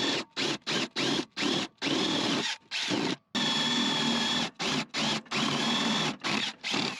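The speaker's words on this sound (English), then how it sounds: "So we're going to do some drilling" Power drill boring drainage holes through wine barrel planting containers for potatoes, loud close bursts of motor whine in a rapid stop-start series of short pulses, then one long sustained run followed by more quick bursts.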